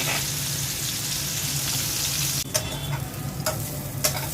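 Eggplant fries in a pan with onion and garlic, a steady, close crackling sizzle with a few sharper scrapes of stirring toward the end.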